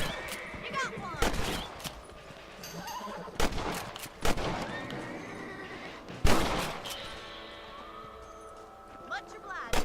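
Rifle shots ring out while hunting rabbits on horseback in Red Dead Redemption on PS3, a handful of sharp, separate cracks spaced several seconds apart, with horse whinnies and hoofbeats and people talking in between.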